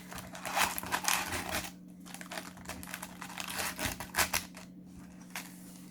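Yu-Gi-Oh Blazing Vortex booster packs are torn open by hand, with close crinkling foil and irregular ripping and crumpling bursts over a low steady hum.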